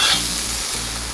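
Pieces of meat fry in a very hot kazan cauldron, giving a steady, close sizzle with soft crackling that fills the clip and carries no voices.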